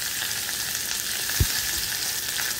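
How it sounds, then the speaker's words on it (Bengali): Potatoes and cauliflower fry in a pan, giving a steady close sizzle throughout with one brief low knock partway through. "এখানে একটু আলু আর ফুলকপি ভাজছি প্রথমে"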